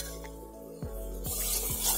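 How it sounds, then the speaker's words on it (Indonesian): Sucking snails stir-fried in a pan with leaves, giving a hissing sizzle that swells over the second half, broken by a few dull knocks and scrapes of the utensil. "Kita tumis hingga harum."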